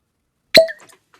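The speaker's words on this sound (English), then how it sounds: "I might get a good second cork pop here." A cork pops out of a bourbon rye whiskey bottle in one sharp, close, loud plop, followed by a brief faint rattle and then silence.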